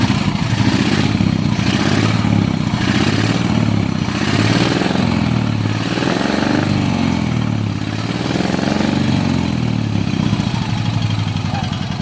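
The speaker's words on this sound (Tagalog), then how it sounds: "Ito ang ano, ang makina ng kotse na walang radiator." An air-cooled car engine with no radiator runs steadily up close, a low rumbling idle with a slight rhythmic pulse, loud and continuous throughout.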